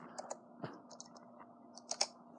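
Typing on a computer keyboard: a handful of sharp, separate key clicks with uneven pauses between them, fairly close and moderately quiet, with no talking.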